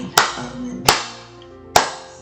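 A congregation at a live church service bursts into applause three times in acclaim of the Lord, each short, loud clap burst fading quickly before the next.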